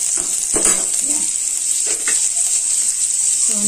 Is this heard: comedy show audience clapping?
no